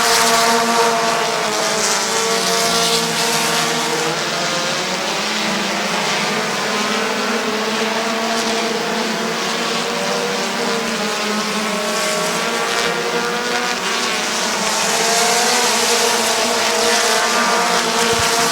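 Several race cars run three wide at Midvale Speedway, giving a loud, continuous, layered engine roar that holds steady throughout without voices.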